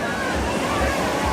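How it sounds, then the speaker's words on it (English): Water sloshing in waves at an amusement park ride on Long Island, a steady loud wash of splashing water filling the whole moment, with low rhythmic surges underneath. "I see why you could get wet is because of the waves here"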